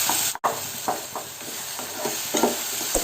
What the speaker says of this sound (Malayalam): ഈ പഴം നന്നായിട്ടൊന്ന് വഴറ്റിയെടുക്കാം